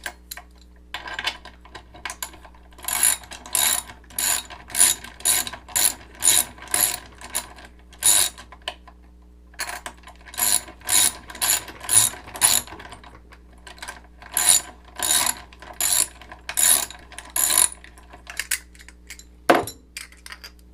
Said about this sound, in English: once it screws down and the head hits these washers, the nut can't go any further down, so it starts threading up that anchor to pull that anchor out